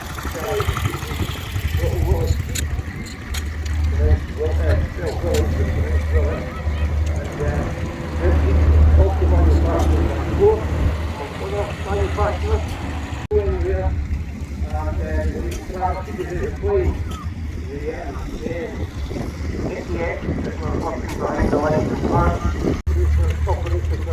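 Military vehicles drive in at a vintage vehicle event in Ladybank, Scotland, their engines a steady low idling rumble throughout, with a person speaking over them.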